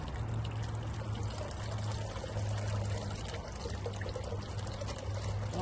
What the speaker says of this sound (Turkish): Biraz suyu fazla veriyorum.